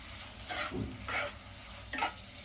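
Onion layers for paneer do pyaza sizzle in a pan while being stirred, with three scraping stirring strokes over a soft, steady frying hiss, close and fairly quiet.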